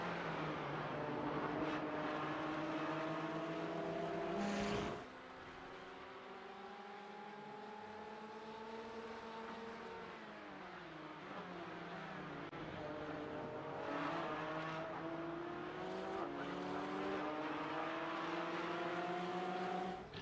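STCC touring race cars in a racing game at Silverstone drone through the gears, their engine pitch climbing and dropping with gear changes and throttle lifts as several cars run together at a steady, moderate level.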